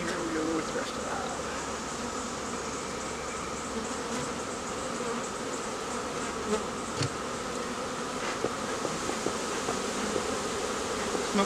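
Honey bees from a rescued swarm buzz steadily in an open hive, forming a dense, continuous hum close by, with a few faint knocks and handling noises from the hive frames.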